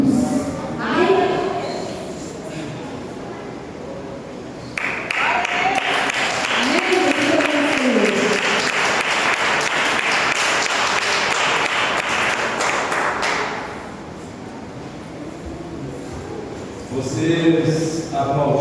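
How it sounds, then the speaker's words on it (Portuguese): A church congregation applauds loudly and steadily for several seconds, a dense wash of many hands clapping, with the worship band's music and voices around it before and after. "Vocês aplaudiram nesse momento aí"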